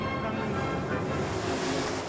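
High sea waves wash and surge around a fishing boat at sea, a steady broad rush mixed with wind buffeting the microphone, fairly faint and continuous.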